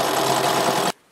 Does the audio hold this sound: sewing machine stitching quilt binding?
yes